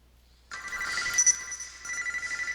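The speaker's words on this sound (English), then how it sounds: "I don't know if you heard that phone ringing in the background" A telephone starts ringing abruptly after a moment of quiet, a bright electronic trill repeating steadily, heard at moderate distance.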